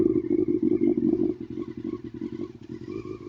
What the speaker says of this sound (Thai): อันนี้ก็เป็นเสียงท่อ